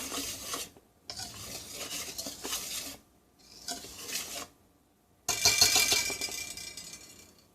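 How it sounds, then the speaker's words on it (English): Dry ingredients for vegan crepe batter being mixed in a bowl, giving close scraping and stirring strokes in several bursts separated by short pauses, ending in a louder, brisker stretch. "once y'all add your dry ingredients, you need to give it a good little mix"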